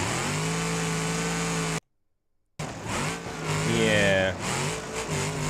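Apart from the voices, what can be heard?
rocket pickup truck engine revving in BeamNG video game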